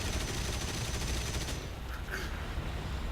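Machine guns of a Yak-7B fighter fire in War Thunder, a loud dense burst of rapid shots for about a second and a half, then fading into engine drone and scattered lighter hits.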